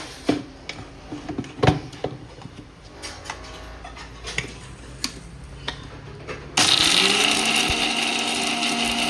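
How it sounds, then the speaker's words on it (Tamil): Clicks and ticks of a kitchen appliance lead into a mixer grinder switching on partway through, grinding garlic, pepper and cumin, a loud steady whirring grind that carries on to the end. "பூண்டு போட்டு மிளகு சீரகம் அரைச்சிக்க போகிறோம்."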